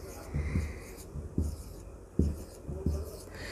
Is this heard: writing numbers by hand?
yes